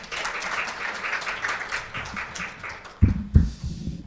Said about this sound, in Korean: 귀한 강연 해주신 서정순 교수님께 다시 한번 큰 박수 부탁드립니다.